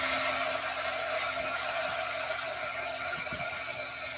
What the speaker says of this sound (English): I'm going to dry this really quick.